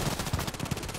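Rapid bursts of 416C rifle fire in the shooter game Contract Wars, a quick rhythmic string of close, punchy shots running through the whole moment.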